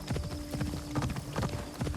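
Horse hooves clip-clop in a steady walking rhythm in Assassin's Creed Shadows, close and fairly loud, with no talk over them.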